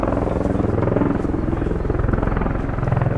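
A US Air Force Boeing CV-22B Osprey tiltrotor flies at the RIAT 2022 airshow, its rotors producing a loud, steady, rapidly pulsing throb that fills the whole clip.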